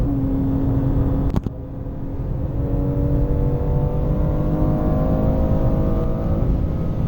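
A 2019 BMW M2 Competition driving a lap of Sepang circuit on worn tires, its engine droning loudly and steadily as the pitch slowly rises, with a brief sharp knock near the start.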